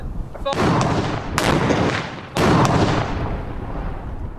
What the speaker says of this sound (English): They create an explosion, but no ignition.